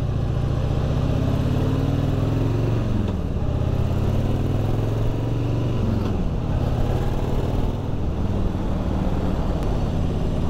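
Harley-Davidson Softail Heritage motorcycle on its first ride, its steady engine rumble loud and close throughout, with pitch sweeps as the rider shifts and revs.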